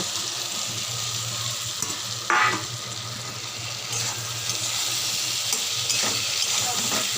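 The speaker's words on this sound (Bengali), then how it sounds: "ভালো করে কষাবো দেখুন বন্ধুরা ভালো করে কষানো হয়ে গেছে" Potatoes with chillies and cumin being stir-fried in a pan for a Bengali fish curry, giving a steady close sizzle with a brief scraping stir near the middle and a low hum underneath.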